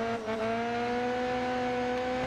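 Race car in the Grid Autosport video game, a BTCC touring car, with a steady loud engine drone held at a constant pitch throughout a short burst as it brakes hard.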